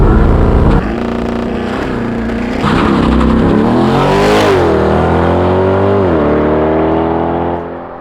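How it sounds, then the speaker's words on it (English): A 2020 Chevrolet Corvette convertible launches hard under launch control, its engine roaring loud and close, pitch climbing through several upshifts with brief dips before fading near the end; no one speaks. "now we're gonna check my favorite option in all the sports cars, that's called launch control"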